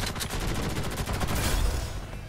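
Rapid automatic gunfire rattles in a fast, even burst in the online shooter game Ghost in the Shell: First Assault, loud and close, with no voices over it.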